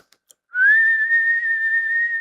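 A single person whistles one sustained, steady tone for about two seconds after a brief silence with a couple of faint clicks, close and fairly loud.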